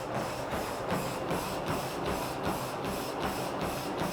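Rhythmic thudding footfalls on a NordicTrack Commercial 2450 treadmill running at 8 mph, heard up close under a steady whirring belt and motor hiss, the steps landing evenly at a quick running pace.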